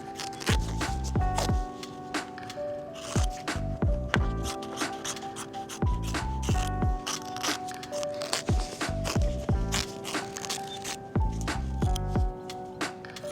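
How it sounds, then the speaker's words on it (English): Scissors trimming appliqué fabric close to embroidered stitching: a series of crisp, close snips in an uneven rhythm, heard over light background music. "this is the last piece of fabric, and we are just going to cut it again as close as we can"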